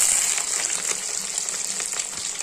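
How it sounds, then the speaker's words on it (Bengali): Soybean chunks fry in hot oil for vegetarian biryani, giving a steady, bright hiss and crackle at close range with no voices. "বিরিয়ানি করতে সয়াবিনটা কিন্তু ভাজা করে নিতে হয়।"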